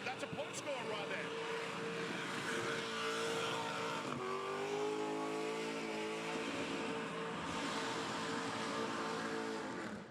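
A burnout competition car at a Burnanza event spins its tyres with the engine held at high revs. It makes a loud, continuous roar for ten seconds, with the pitch climbing and shifting midway and a harsh, gritty wash over it.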